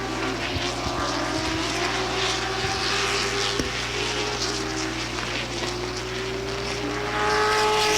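Late model race cars at the Please Don't Rain 200 on a race track, a steady loud engine drone with rising and falling tones as cars pass, heard without speech.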